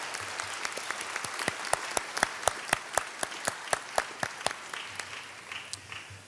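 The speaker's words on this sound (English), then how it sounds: "I want to give one more big round of applause for Miss Sherry Bell" Applause at a Biloxi Sports Hall of Fame induction ceremony honoring Miss Sherry Bell: a room of clapping with sharp, distinct claps standing out in a steady rhythm, building in the middle and thinning toward the end.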